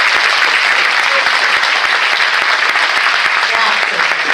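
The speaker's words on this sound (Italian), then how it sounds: "ricorderai l'applauso di questo grande pubblico del Teatro Italia di Acerra" Large theatre audience at Teatro Italia in Acerra applauding, a dense, loud, continuous wash of clapping sustained throughout.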